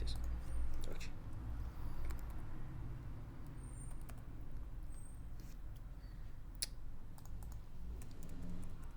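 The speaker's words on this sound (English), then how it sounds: "Let me type." Scattered clicks of typing on a computer keyboard, faint and irregular over steady background noise.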